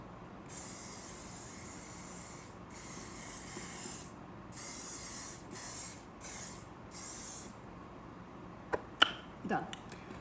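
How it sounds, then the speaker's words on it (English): Living Proof hairspray is sprayed onto hair in a series of close hissing bursts of varying length, with pauses between them, then a few brief handling knocks at the end. "And I'm gonna spray it. Not a lot. I don't like a lot of hairspray, so just this much."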